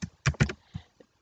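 Someone types into an Excel spreadsheet on a computer keyboard, a few close, crisp keystrokes coming in quick uneven bursts, then a couple of softer taps, with no talk.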